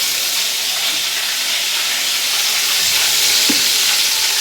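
Ground coconut and chana dal fry in ghee for coconut halwa, a steady loud sizzle and hiss with faint stirring scrapes throughout and a single soft knock near the end.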